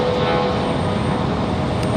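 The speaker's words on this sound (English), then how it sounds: "Got an A319 on the move for American Airlines." An American Airlines Airbus A319 taxis at RDU airport with a constant, close jet-engine whine and rumble, dense and unbroken over the short span, with no voices.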